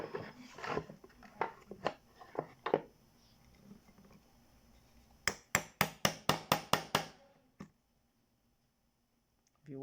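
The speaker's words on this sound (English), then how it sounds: "You can use this and just hammer it." A quick series of sharp, evenly spaced taps, light hammering on Indian slippers, about eight strikes in a row, following scattered knocks and faint handling noise.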